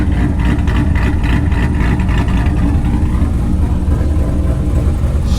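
A Corvette Z06 V8 engine idles deep and steady, rumbling continuously, loud and close, with an even low throb and no voices.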